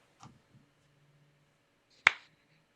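One sharp, close hand clap rings out in a quiet room, preceded by a couple of faint small rustles and a low hum.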